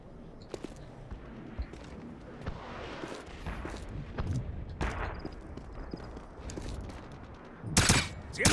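Scattered gunshots and a few sharp bursts ring out as a player fires at an enemy patrol in Wolfenstein (2009) on city streets, irregular cracks over low ambient rumble with a loud burst near the end.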